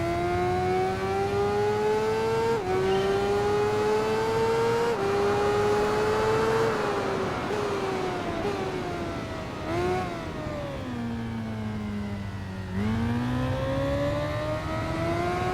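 A Suzuki GSX motorcycle engine in the racing game Tourist Trophy, revving high and steady, its pitch climbing through each gear then dropping at every shift, loud and close throughout with no talking.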